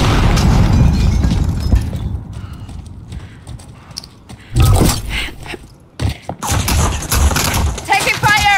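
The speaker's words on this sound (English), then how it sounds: "Target spotted. Throwing frag." In Call of Duty Warzone, a frag grenade goes off as a loud, heavy boom midway through, followed by another blast and continuing gunfire and rumble. Game voice lines sound over the battle noise.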